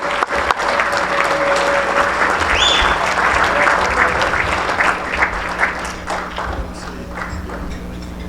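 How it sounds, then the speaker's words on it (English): An audience at a baseball Hall of Fame induction ceremony in a Sheraton ballroom gives steady, sustained applause, a broad wash of clapping from a large room with faint clinks and a low hum behind it. "Please now give a round of applause to our past Hall of Famers."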